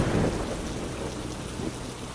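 Steady rain hisses over the whole span while a low rumble of thunder swells at the start and fades, with no voices.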